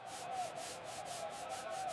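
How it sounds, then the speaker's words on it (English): Rhythmic scrubbing strokes, a steady back-and-forth rubbing on a hard surface, close and moderately loud. "sort of like Steve's blood that Barnes is trying to get up"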